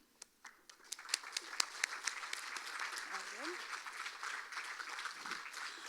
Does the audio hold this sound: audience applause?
yes